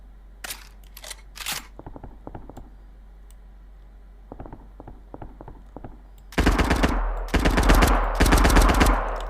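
Rapid rifle gunfire in a video game, bursts of sharp clicking shots at first sparse and quiet, then a loud dense volley of repeated shots toward the end.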